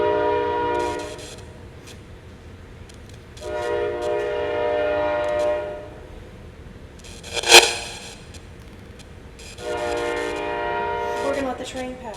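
A train passes near a hall, its horn sounding in several long blasts with a sharp clank between them, under a low rumble.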